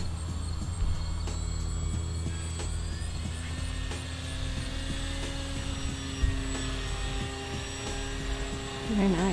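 An Origin Hobby Wilga-2000 RC model airplane flies in the evening sun, its motor giving a steady, continuous drone with a faint whine, moderately distant and unbroken for the whole stretch.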